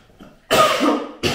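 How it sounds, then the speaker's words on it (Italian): One person gives a single harsh, close cough followed by the start of a second, loud against a quiet room. "che hai la tosse"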